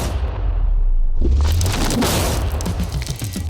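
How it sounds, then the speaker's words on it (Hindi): A TNT blast blowing up a safe, a loud, close broadband boom that swells up and then rolls into a long crackling, rumbling decay of debris with no voices. "इस धमाके ने सच में मुझे डरा दिया।"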